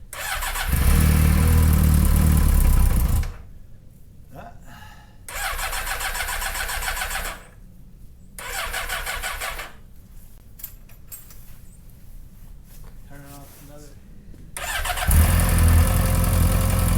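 A small choked engine on a go-kart, jump-started in 12-degree cold with an AntiGravity lithium-ion restart battery, cranks and fires in several loud bursts separated by quiet gaps, then catches and runs near and loud.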